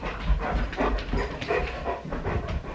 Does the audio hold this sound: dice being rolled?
no